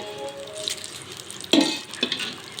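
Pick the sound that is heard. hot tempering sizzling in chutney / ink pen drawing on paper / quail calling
hot tempering sizzling in chutney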